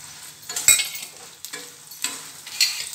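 Urad dal, coriander seeds, mustard seeds, cumin and a little fenugreek frying in a pan, with soft intermittent sizzling and a few stirring scrapes in bursts, close and moderately loud, no talking.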